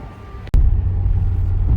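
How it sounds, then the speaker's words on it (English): A Hyundai Exter driving on the road, heard from inside the cabin: a sharp click, then a loud, steady low engine and road rumble that holds to the end. "On the road in the new Hyundai Exter"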